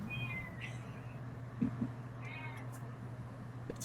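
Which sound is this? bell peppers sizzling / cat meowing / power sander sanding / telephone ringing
cat meowing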